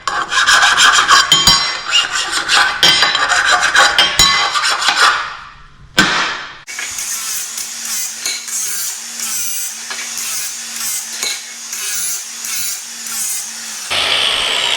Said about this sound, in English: you can just finish it off with a file